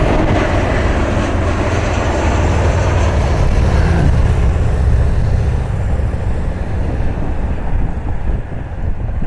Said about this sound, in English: United 2374 inbound from Chicago's O'Hare International Airport.